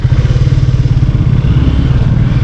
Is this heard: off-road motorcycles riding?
yes